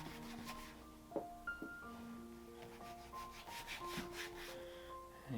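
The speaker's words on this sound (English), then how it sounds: "I'm really just kind of dabbing my finger, barely getting anything on there, rubbing it into the leather" Soft, steady rubbing of a fingertip working product into the leather of scuffed Gucci loafers, close and faint, with light scratchy strokes over a quiet background that carries some faint tonal music.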